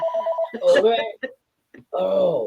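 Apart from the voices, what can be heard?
telephone ringing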